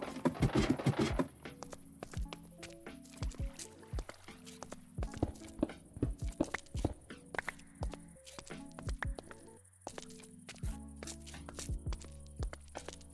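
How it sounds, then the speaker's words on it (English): Footsteps walking in Minecraft with a Create-mod homestead modpack, a steady series of soft, close patters and thunks repeating throughout alongside mechanical hums and tones, with no talking. "I like the sound of the footsteps."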